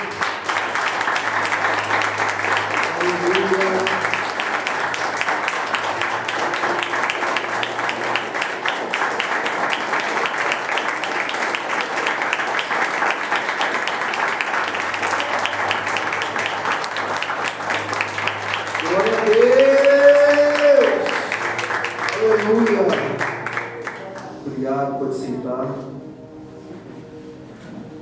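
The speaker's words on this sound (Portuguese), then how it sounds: "Vamos aplaudir Jesus." A church congregation applauds for Jesus in a long, steady wash of clapping with a low hum beneath it, and a voice rises above the applause near the end.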